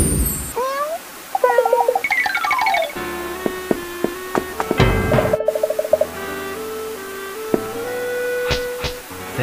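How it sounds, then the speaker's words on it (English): Cartoon cat meowing in a few short, bright, wavering calls amid playful cartoon sound effects and musical tones, loud and close. "It's a cat. It's for you."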